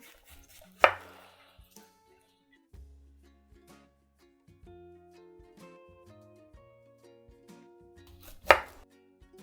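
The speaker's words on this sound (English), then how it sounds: "I'm just trimming off any little brown spots that I see there." A knife trims vegetables on a cutting board while pickles are prepared: two sharp, close knocks of the blade on the board several seconds apart, with soft small taps and handling sounds in between.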